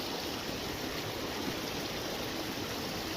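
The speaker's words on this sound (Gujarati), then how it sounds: "જેથી ખેતરોમાં પાણી વહેતા થયા છે" Monsoon rainwater flows across farm fields near Bharuch, Gujarat, making a steady, even rush of running water that stays constant and fairly faint from start to finish.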